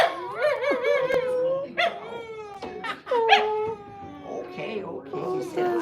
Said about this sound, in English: Oh my gosh, oh, he's barking.